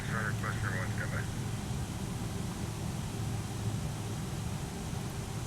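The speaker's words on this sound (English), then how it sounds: "we're taxiing here at Boston. We've got a 747 here today that we're going to try to fly." A Boeing 747-400 taxiing at Boston in a flight simulator video game, a steady broad engine roar and rumble that stays constant throughout, with a brief chirping tone near the start.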